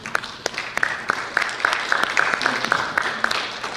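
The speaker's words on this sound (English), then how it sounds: "a round of applause" Applause at a county board of education meeting as a board member is honored: a small group clapping in a fairly close room, individual claps distinct and uneven over a low background murmur.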